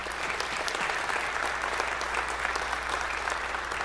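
Applause from a school concert audience, a thick, even wash of many hands clapping that holds steady and fairly loud throughout, with no pauses.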